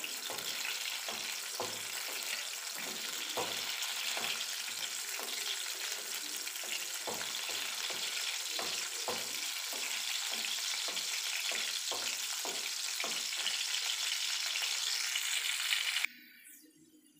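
Steady sizzle of garlic frying in oil for a dal tarka, small crackles and pops throughout, close and fairly soft, stopping abruptly near the end.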